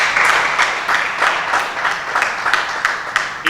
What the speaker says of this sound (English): Can we clap for the Health Reporters Network?